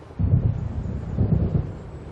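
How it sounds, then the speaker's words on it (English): Thunder rolls in a stormy night scene from the game Alan Wake, two deep, heavy rumbles swelling close and loud over a steady wash of wind and rain. "It seems there's a storm coming."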